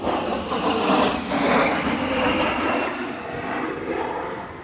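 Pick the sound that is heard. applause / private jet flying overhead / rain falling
private jet flying overhead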